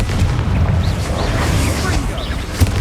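A Confringo spell blast in Hogwarts Legacy, a loud booming burst with a sharp pop near the end, heard amid busy game sound effects.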